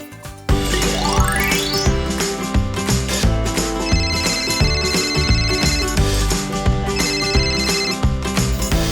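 Loud electronic phone ringtone playing a bright repeating melodic jingle, steady and continuous throughout, with no talking over it.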